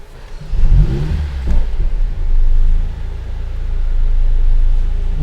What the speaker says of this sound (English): So let's change the dynamic select driving characteristic into race mode, and I will start the engine.